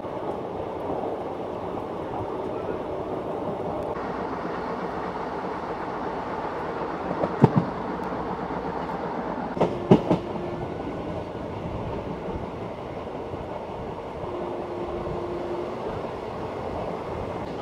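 A passenger train rolls steadily toward the Pamban bridge near Rameswaram, giving a continuous low rumble with two brief clusters of sharp metallic clatter from the wheels partway through, and no voices over it.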